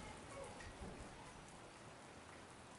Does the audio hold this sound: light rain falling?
yes